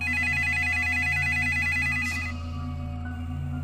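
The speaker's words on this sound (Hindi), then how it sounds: "पहले तो मैंने सोचा कि मैं आज फोन नहीं उठाऊंगा, पर फोन लगातार बजे ही जा रहा था" A telephone rings on and on as an electronic warbling ringtone, repeating in quick regular bursts over a low hum, a sound effect in a Hindi ghost story before the tone cuts away.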